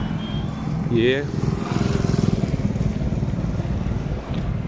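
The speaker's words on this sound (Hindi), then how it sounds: "अभी पूरा रोड भर गाड़ी आ रहा है" Busy city road traffic in Raipur during the rainy season, a steady close rumble of engines with a brief horn or reversing beep early on, while someone talks over it.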